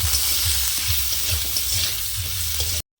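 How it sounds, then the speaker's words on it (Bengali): Potatoes frying in hot oil with salt and turmeric in a pan for a sour fish curry, a steady close sizzle with light stirring throughout, cut off briefly near the end. "এই আলুর মধ্যে অল্প করে লবণ আর অল্প করে হলুদ দিয়ে দিচ্ছি, দিয়ে ভালো করে একটু কষে নেব"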